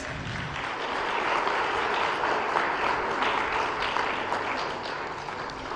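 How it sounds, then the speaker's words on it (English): Conference attendees at an international strategic dialogue on NCDs and SDGs clap for a speaker as she is welcomed to the stage. The applause is broad and sustained, swells briefly and then eases, with no talking over it. "With a round of applause"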